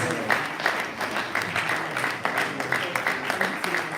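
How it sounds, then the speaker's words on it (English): An audience at the official opening of a university advisors' workshop claps steadily and densely throughout, a moderately loud sustained round of applause with no clear speech on top. "Shall we please give him a very wonderful round of applause, please?"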